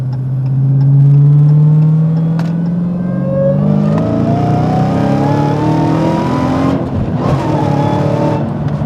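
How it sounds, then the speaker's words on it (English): A car pulls hard up an on-ramp, its engine note climbing loud and close through the gears with shifts breaking the rising whine, no talking over it. "we're going to do an on-ramp pull here"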